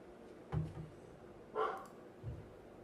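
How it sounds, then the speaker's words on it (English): A dog barks three times at a distance, with short, separated barks across a quiet room and no talking. "Dog was still barking, but just."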